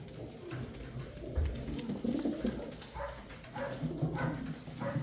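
Low, soft cooing of pigeons repeats through a busy room-like background, with a few brief bird calls and rustles mixed in.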